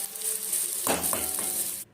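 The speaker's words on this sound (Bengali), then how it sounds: "এরপর সব 30 সেকেন্ড মতো আমি ভেজে নিলাম" Sliced onions and grated ginger sizzle in hot oil in a pan, a steady frying hiss with a few bursts of stirring that stops abruptly at the end.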